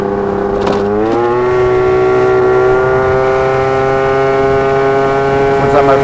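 A Yamaha Aerox 70cc scooter engine revs loudly close up, its tone climbing at first and then holding a rough, buzzing steady drone, with a brief voice near the start.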